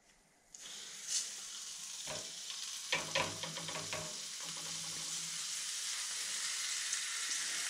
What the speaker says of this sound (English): fry the fish for a few minutes on both sides